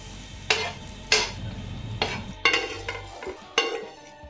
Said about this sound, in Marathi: त्याच पॅनमध्ये कांदा भाजून घ्या. शेवटी त्यात पांढरे तीळ घालून गॅस बंद करा.